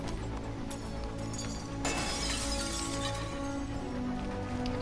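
Objects are smashed in the video game Detroit: Become Human. A sudden loud shattering crash hits near the two-second mark and then fades into lingering debris clatter over the game's steady background.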